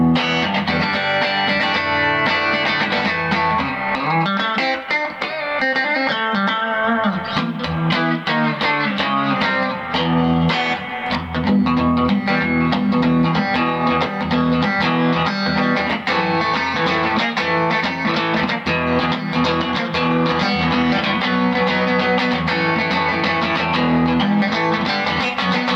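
Electric guitar played through a vintage Rickenbacker TR14 amp with light reverb, a steady run of strummed chords and picked notes with a slightly distorted edge and a soft reverb tail, close and fairly loud with no talking.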